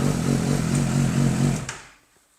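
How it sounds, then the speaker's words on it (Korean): Used motorcycle engine idling through its exhaust, a clean, even low pulsing that runs steadily, then cuts off abruptly into near silence. "배기 소리까지 정말 깔끔한 소리가 나오고 있어요."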